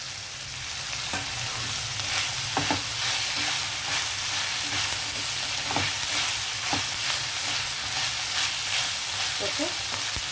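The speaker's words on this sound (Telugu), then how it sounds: "ఉల్లిపాయలు ఇలా వేగేటప్పుడే మనం క్యాప్సికము, పచ్చిమిర్చి, కరివేపాకు ఇవన్నీ వేసేద్దాం" Onions frying in a pan with capsicum, green chillies and curry leaves for a chilli prawn fry, a steady loud sizzle throughout with occasional stirring scrapes and clinks, no talking.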